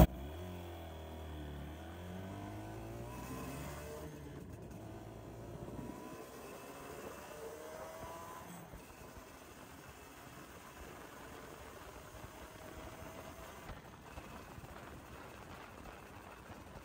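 Kawasaki classic Japanese motorcycle engine revving and pulling away, pitch rising through gears in the first seconds, then a steady rumble with wind noise as it rides along a dark road.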